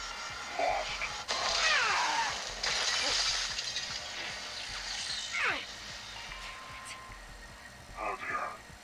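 Glass shatters and breaks in a Black Ops Cold War game cutscene, several sharp crashing and tinkling bursts spread across the scene over a low background rumble.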